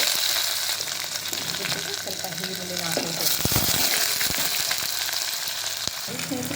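Dry red chillies and garlic crackle and sizzle in hot tempering oil with cumin for a greens soppu saaru, a steady loud frying hiss with a few sharp pops and a stirring clatter, no voices.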